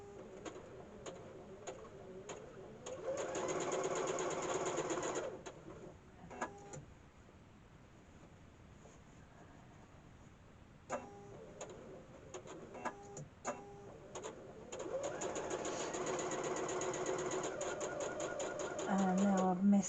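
A sewing machine stitches across a zippered pocket, running in two bursts of steady rapid mechanical whirring, with quieter handling sounds in between and someone talking faintly at times.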